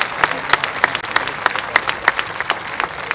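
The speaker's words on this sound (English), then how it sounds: "Give a round of applause for all of our new hires." An audience at a school district convocation claps for new staff, a steady round of applause with distinct sharp claps standing out from the crowd.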